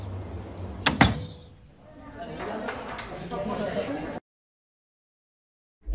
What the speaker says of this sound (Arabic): صوت كتب الباب